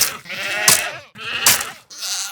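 Goats bleat in Minecraft, a mountain setting with goats bred for horns: three wavering, nasal bleats in quick succession, fairly loud and close, with no talk.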